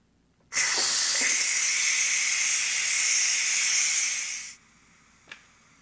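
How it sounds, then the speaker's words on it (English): Steam hisses loudly and steadily from an electric pressure cooker venting, a continuous broadband rush for about four seconds that tapers off abruptly, followed by quiet and one faint click. "we will do a natural release of about 10 minutes"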